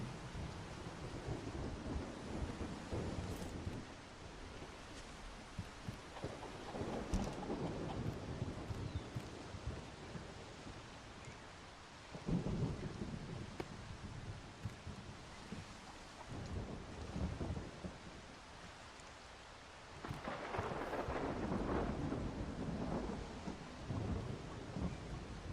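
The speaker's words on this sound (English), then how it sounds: "That noise would be a big old thunderstorm." A thunderstorm with steady rain in the video game Solarpunk, continuous rainfall hissing throughout while deep thunder rolls build and fade several times, the loudest roll arriving near the end.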